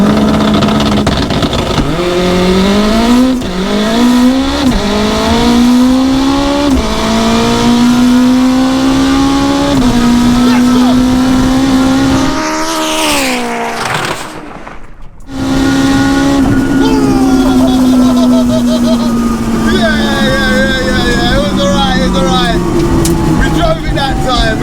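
All-wheel-drive Honda Integra four-cylinder race car launching in a drag race against a 900 hp Audi Quattro, loud close engine revving and climbing through gears with rising and falling tones, a brief drop in the middle, then pulling hard again.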